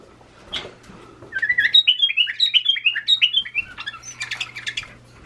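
Bulbul chicks, two nestlings about three days old, give a rapid run of bright chirps and squawks at close range. The high calls repeat in quick succession for several seconds, with no talking.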